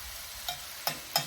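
A pound of ground beef fries for stroganoff under a low steady sizzle. Three sharp scraping stir strokes land at uneven intervals, close and distinct, with no voices.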